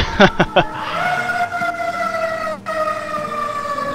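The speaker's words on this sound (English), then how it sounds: "There's a fire engine driving by." A fire engine siren wails past with steady, sweeping tones that stay loud and close, following a few short bursts of sound at the start.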